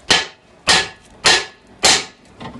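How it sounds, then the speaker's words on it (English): Four sharp metallic hammer blows at a steady rhythm, with a fainter fifth at the end, strike the steering knuckle of a Dodge Charger to free its lower ball joint, close and loud with no talk. "and give it a couple bangs."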